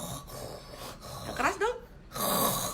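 Human voice imitating a snoring cat with a few raspy, snorting inhales and exhales, close and fairly soft, between bursts of noise.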